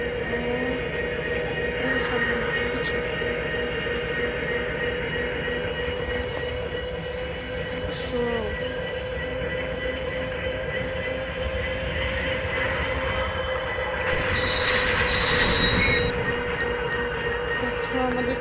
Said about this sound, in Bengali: আমাদের ট্রেনটি অ্যাটাচ হয়ে গেছে, আর এটি হচ্ছে পাহাড়তলী রেলওয়ে স্টেশন